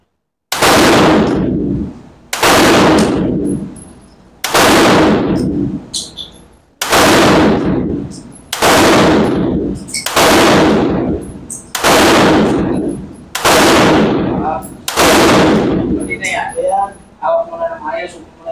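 Gunfire on a shooting range during a gun safety seminar: eight loud, close single shots, each ringing out briefly, fired at a steady pace about two seconds apart.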